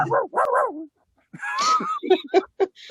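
Voices mimic dogs with short, yappy barks and whiny yelps, a few quick bursts separated by brief pauses.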